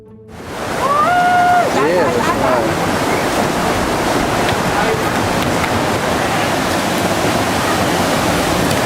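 Tsunami waves crash ashore on the coast of Thailand, a roaring, continuous wall of rushing water that surges up within the first second and stays loud, with brief shouting voices at the start.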